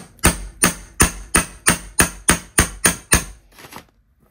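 Ten sharp, evenly spaced metallic hammer strikes on a rivet setting tool, each ringing briefly, close and loud, with the last one lighter before silence.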